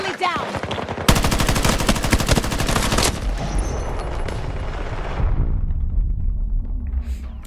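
Sustained automatic gunfire from Battlefield 2042 gameplay on PS5, a loud dense burst of rapid shots lasting about two seconds, then rumbling explosions and battle noise fading toward quiet.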